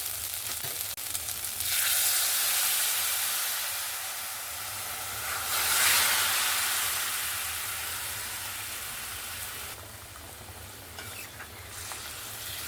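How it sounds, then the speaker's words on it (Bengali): Vegetables and fish added to fried spices in a pan for a thin fish curry, sending up a loud, steady hissing sizzle that swells in waves, with faint stirring clinks near the end. "এবার আমি সবজি আর মাছটা এখানে ছুঁকে দেব।"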